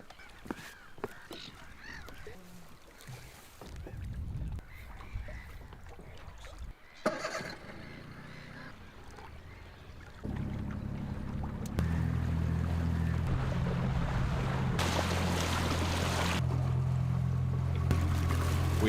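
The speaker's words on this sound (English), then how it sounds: "We had a long boat ride here." A motorboat travels across a Finnish lake, its engine droning steadily and growing louder and fuller partway through, with wind and water noise, and a few sharp honking calls from geese early on.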